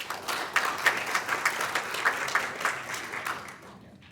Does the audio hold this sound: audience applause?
yes